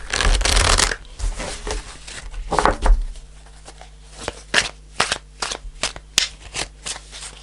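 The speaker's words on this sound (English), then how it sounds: "I'm going to pull a card." Tarot cards shuffled close by with a loud riffling burst, then a quick run of crisp, separate card flicks and taps as one card is pulled from the deck; no one talks.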